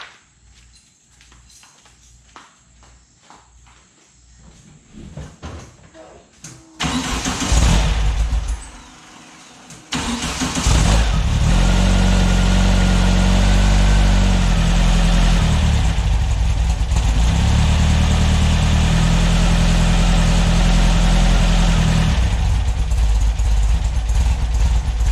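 A freshly built VW air-cooled 2332 stroker engine, some timing or carburetor trouble, clicks and rattles through several cranking attempts, then catches and runs at a loud, steady idle up close.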